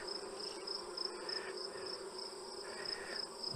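A steady, high-pitched buzzing hum of honey bees, droning continuously nearby without pause.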